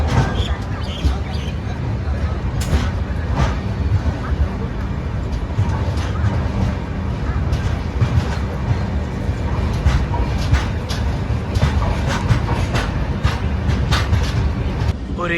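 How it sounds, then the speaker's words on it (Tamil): Express train 12164 from Chennai to Bombay pulls out of the station, a steady low rumble of rolling railcars with rhythmic clacks and bursts of higher noise, carrying on loudly throughout over faint platform babble. "நம்ம ட்ரெயின் கிளம்ப போகுது."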